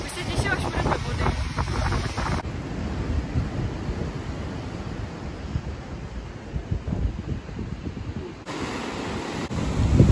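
Strong wind buffets the microphone in a steady, rough roar by the sea in January, with faint surf from big waves underneath and no clear talk.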